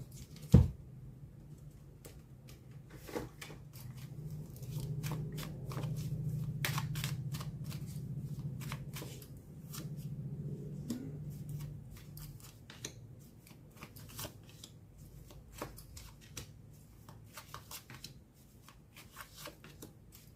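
Tarot cards being shuffled by hand for a final draw, a quiet run of soft riffling and brushing card noises with a sharp snap near the start, fairly close and continuing without speech.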